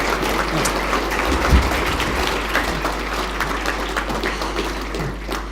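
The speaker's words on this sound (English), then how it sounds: "This is when you applaud." Steady applause from a crowd, a dense rush of clapping that holds at an even level throughout, with a low hum underneath.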